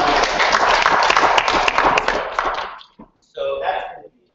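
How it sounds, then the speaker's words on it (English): An audience at a community schools partners meeting applauds the mayor with a brisk burst of clapping that fades out, followed by a short stretch of talking. "let's applaud the mayor"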